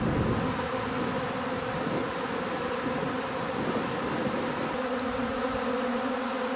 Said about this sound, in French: Je vais attendre un peu encore que toutes les abeilles se fixent.